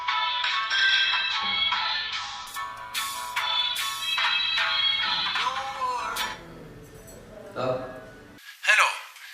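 An electronic telephone ringtone chirps in repeated bright bursts indoors in an Ethiopian drama scene, the ring sounding over and between people talking.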